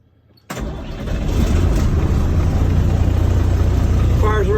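A 1991 International 4900 dump truck engine cranks and catches, then settles into a loud, steady diesel idle close by.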